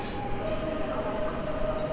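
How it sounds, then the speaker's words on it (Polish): A Pesa Dart train passes at night at Warszawa Zachodnia station, giving a steady rumbling roll with a thin high whine running through it, at moderate distance. "Jedzie Pesa Dart"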